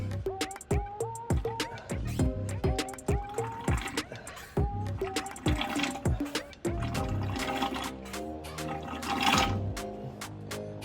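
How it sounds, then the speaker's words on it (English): Transmission fluid glugging into the CVT transmission of an Audi A4 B7, rapid rhythmic gurgling pulses with rising pitch that give way to a steadier bubbling fill, close and moderately loud. "Good news, getting a lot of fluid in there."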